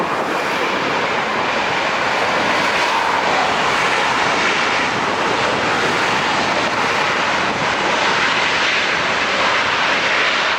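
An airplane landing at LAX gives a steady, broad roar of jet engine noise that fills the whole stretch without a break. It sounds fairly loud and continuous, with no voices over it.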